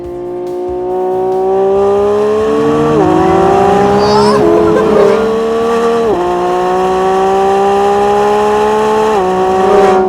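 A Lamborghini Revuelto hybrid V12 with front and transmission electric motors accelerates hard at full power in Corsa mode, its loud rising engine note climbing steadily through gears with three distinct upshift dips, close and continuous throughout.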